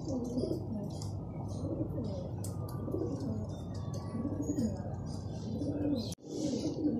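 Pigeons coo in soft, repeated low warbles close by inside a loft, with a few faint chirps and a brief sharp knock near the end.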